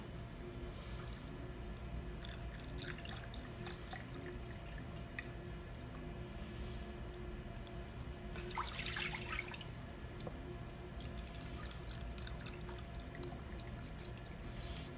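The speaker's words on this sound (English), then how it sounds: "then we're gonna do 2 cups of the beef broth" Beef broth is poured into a cooking pot, a quiet trickle and splatter of liquid that briefly swells into a louder splashing gush midway, heard up close with no talking.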